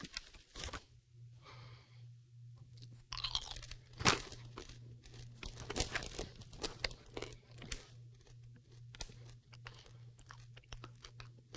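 Crunchy dried shiitake mushroom crisps being chewed close up, a steady run of sharp crisp bites and crackles with occasional bag crinkles and a low steady hum underneath, no talking.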